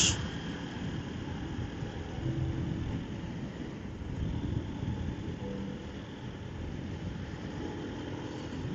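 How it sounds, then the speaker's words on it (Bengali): Steady, strong cold wind roars without a break, a broad rushing noise with a low rumble underneath, with no voices. "মারাত্মক মানে পুরা ডেঞ্জারাস ঠান্ডা বাতাস।"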